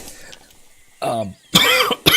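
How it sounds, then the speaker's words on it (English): Coughing fits after choking on coffee: a harsh burst, a pause, then a longer, louder rasping cough and a short final hack, close up with no talk. "Choked on coffee."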